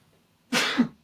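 A single sneeze bursts out up close during a basketball podcast recording, sharp and fairly loud for about half a second with a slight catch at the end, with no talk around it.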